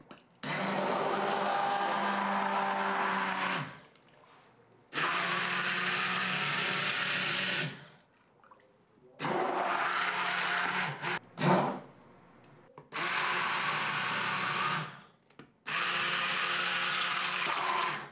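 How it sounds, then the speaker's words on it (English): An immersion blender whirs through carrot-ginger soup in a stainless steel pot, running in four long steady bursts separated by brief pauses, loud and close with no talk. "if you're using an immersion blender is put the blender into the pot"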